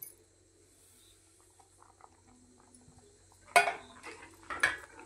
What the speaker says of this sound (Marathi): आणि व्यवस्थित असं हलवून घ्यायचं, कारण काही गुठळ्या होता कामा नये.